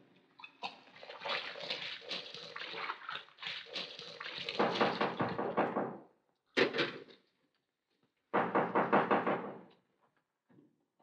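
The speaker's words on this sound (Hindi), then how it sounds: "अरे आता हूँ दरवाजा क्यों तोड़ रहा है" Loud, rapid knocking and banging on a door in a classic Hindi comedy film, sustained hammering for several seconds, then a short burst and another vigorous round after brief pauses.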